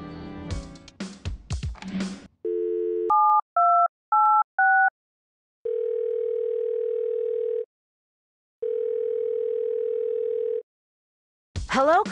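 Electronic telephone tones from the Thimbleweed Park game's radio station phone system rebooting: a low steady tone, four short alternating two-pitch beeps, then two long sustained dial-tone-like hums separated by silence, bracketed by brief music and chatter.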